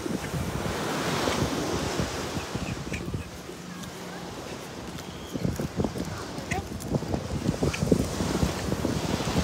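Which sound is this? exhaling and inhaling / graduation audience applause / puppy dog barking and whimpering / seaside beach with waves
seaside beach with waves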